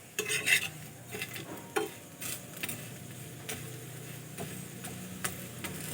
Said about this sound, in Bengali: এইভাবে আমি উল্টিয়ে পাল্টিয়ে ভেজে নেব